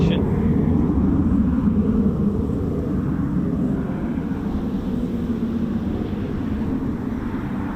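RAF F-35 Lightning jets flying in formation at RAF Marham, a steady, loud, broad jet roar that holds throughout, with faint voices underneath.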